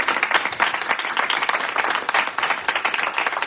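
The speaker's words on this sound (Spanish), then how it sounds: "Denle un aplauso al Señor." A church congregation applauds in a steady burst of dense clapping that fills a large room, loud and sustained with no voices over it.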